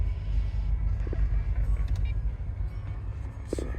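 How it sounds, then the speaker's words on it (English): A 2010 Range Rover Sport engine idles cold with raised revs, a steady low rumble heard close up, with a couple of faint clicks and rattles on top. "The engine's not totally warmed up, so the RPMs are up."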